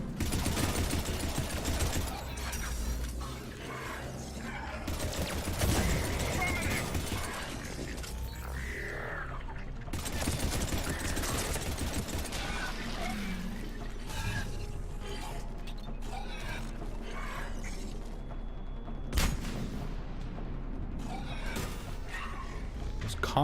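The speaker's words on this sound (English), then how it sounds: "Those combo explosions sound so satisfying." Combat in Mass Effect 3 erupts as combo explosions blast amid bursts of gunfire, a dense, loud, continuous barrage with sharp cracks and booms layered over constant action noise.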